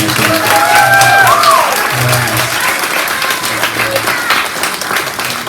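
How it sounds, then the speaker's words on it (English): An audience at a school closing event applauds steadily, with a voice heard briefly over the clapping. "Let's give them a big round of applause."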